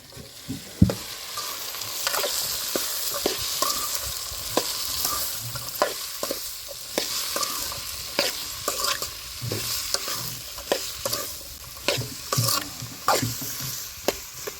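Salt and turmeric stirred into ivy gourd and brinjal curry frying in a village-style pan, with repeated sharp spoon scrapes and clacks over a continuous close sizzle.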